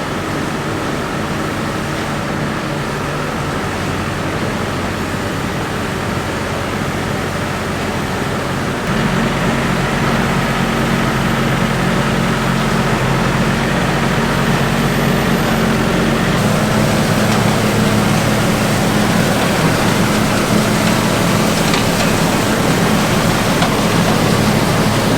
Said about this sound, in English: So this is the straw chopper down there for chopping.